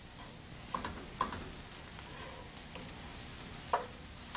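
Onions sizzle softly as they caramelize in a pan, a faint steady crackle broken by a few louder clicks of stirring, close and without any talking.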